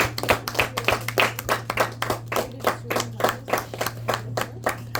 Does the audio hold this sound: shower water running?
no